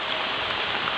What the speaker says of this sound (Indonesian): ini hujannya sudah sangat deras sekali